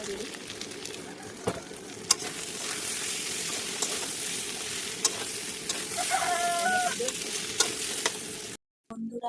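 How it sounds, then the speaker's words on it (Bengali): Native duck meat being sautéed at length in a pan, a steady close sizzle with scraping stirs and occasional utensil clinks running throughout, ending in a brief silence. "হাঁসের মাংস তো দেশি তো তাই অনেকক্ষণ ধরে কষতে হয়"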